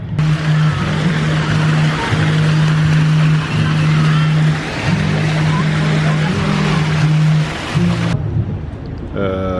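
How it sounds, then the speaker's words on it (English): A boat engine drones with a low steady hum that pauses briefly a few times, under a broad rushing wash of wind and water, off the Southern California coast. "It's a boat."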